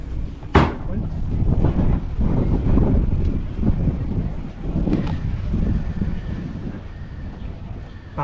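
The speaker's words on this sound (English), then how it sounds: "It's a big wind." Strong wind gusts across the microphone aboard a Catalina 32 sailboat in the Whitsundays, a loud continuous roar with buffeting and a brief knock early on.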